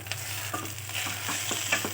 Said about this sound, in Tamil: இப்போ அது கூடவே கருவேப்பிலை போட்டுக்கலாம்.